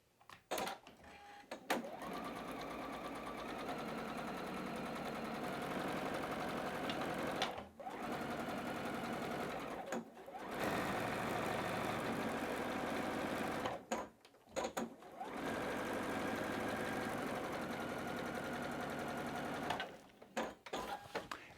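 A sewing machine stitches the outside edges of a fabric quilt block with a steady mechanical whir. It pauses briefly several times and then resumes.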